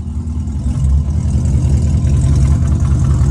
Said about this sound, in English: I hear the cam, but it's a V6 though.